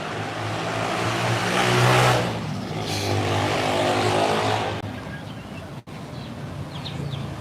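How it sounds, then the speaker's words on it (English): Continuous highway traffic roar beside a road in the Philippines, with vehicles swelling and fading as they pass, one louder pass near the start, steady and fairly close with no voices. "All the freaking noise by the highway"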